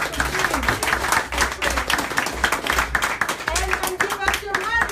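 An audience claps at an agriculture-themed community event in DC, dense uneven clapping with talk and voices running over it, moderately loud and continuous.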